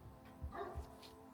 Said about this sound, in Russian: Собаки лают.